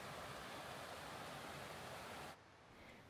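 A river flows through an Australian forest, a loud, dense rushing wash of water that holds steady and then drops to a softer level near the end.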